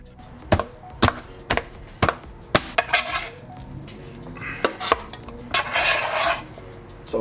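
A knife cuts through a thick cheese pizza on a board, giving a run of sharp, close clacks and scrapes of blade on the surface, spaced about half a second apart, with brief sawing between them and no talk.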